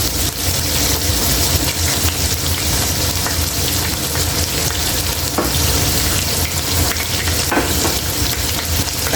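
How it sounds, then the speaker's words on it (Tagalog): Chicken liver frying in a pan, a loud, dense, continuous sizzle and crackle held close up, with no voices. "prito muna natin yung atay"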